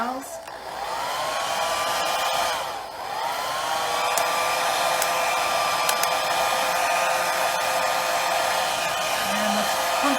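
A wind machine blows steadily at close range during a test of wind speeds around 17 miles per hour, a loud continuous whooshing roar with a slight dip early on and no talking.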